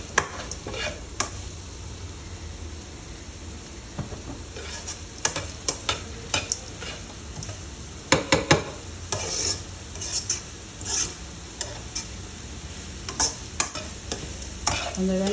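Onions fry for an onion dosa in a pan, giving a soft continuous sizzle broken by repeated scraping and clicking stirring strokes, close and fairly quiet with no talking.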